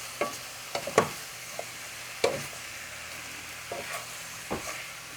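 Lamb meat frying in a pan with cumin powder for a Kashani dill rice dish, a quiet steady sizzle broken by intermittent scrapes and clacks of stirring.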